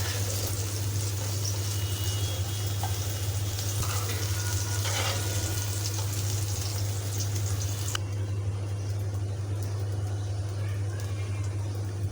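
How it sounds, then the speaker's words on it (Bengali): Okra frying in oil in a wok gives a steady, loud sizzle that runs unbroken throughout, with a constant low hum beneath it. "যেহেতু ঢেঁড়সগুলো ভেজে নিচ্ছি"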